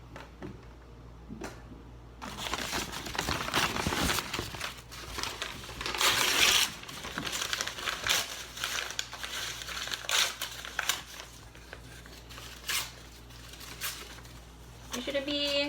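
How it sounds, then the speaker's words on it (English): Paper being torn and crumpled by hand for making recycled paper in a kindergarten garden class, with repeated close rustling, ripping bursts and a voice talking faintly in the background. "Step 1 is to rip up the paper and put it in the blender."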